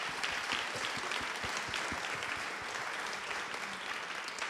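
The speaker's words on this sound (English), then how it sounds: "Can you guys please give our panelists a round of applause?" Audience at a church conference panel on the metaverse and AI applauds the panelists, a dense, steady patter of many hands clapping from moderately far back, with no voices over it.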